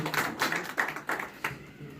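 A small audience at a district BJP party gathering claps to welcome a minister, several uneven bursts of hand claps close by, somewhat muffled and irregular.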